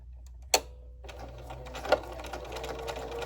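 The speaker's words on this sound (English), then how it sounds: "I'm going to continue to stitch parallel lines across the towel." A sewing machine stitching parallel lines across an old towel for a quilted potholder, running in a steady close rapid chatter after a couple of sharp clicks, fairly quiet and unaccompanied.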